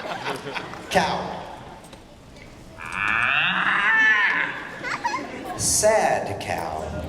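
A person vocally imitates a cow's moo, a drawn-out tonal call in the middle of the clip, with short bursts of voice before and after it.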